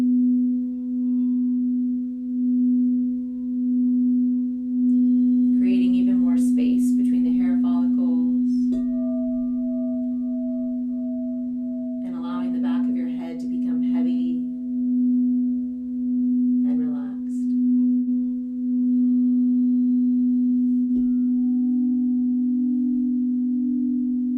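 A sustained singing bowl tone hums steadily throughout, with a lingering overtone, while soft breathy bursts of sound come and go above it.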